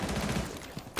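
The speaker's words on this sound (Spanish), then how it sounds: "me hemos reventado a tiros" Rapid gunfire from a Spanish-language street shooter game, a dense burst of overlapping shots that fades briefly before another loud volley at the end.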